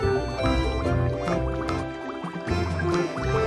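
Water rinsing soap off in a children's cartoon app: bright dripping and splashing liquid sounds, close and continuous, over a busy musical background.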